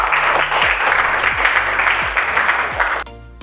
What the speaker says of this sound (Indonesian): Tepuk tangan dulu buat Kurnia ya.